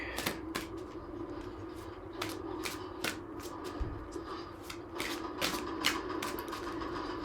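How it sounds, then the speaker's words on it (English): Tarot cards being shuffled by hand, a rapid run of crisp riffling flicks and slaps close up, with no talking. "this seems like a good time, though, to pull some cards"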